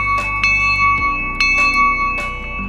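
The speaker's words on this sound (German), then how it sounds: "Also eine richtige Bronzeglocke." A bronze bell with a bright, clear tone rings with repeated strikes, each leaving a long, sustained, shimmering hum, loud and close.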